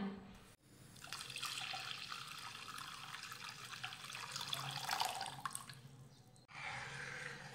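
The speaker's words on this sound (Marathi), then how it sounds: "आता यामध्ये घालूयात 2 वाट्या पाणी" Steady rush of water poured into a cooking pot for several seconds, broad and hissing, with a brief break near the start and a softer trickle toward the end.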